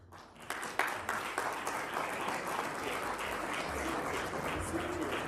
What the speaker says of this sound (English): another round of applause in absentia for Buseso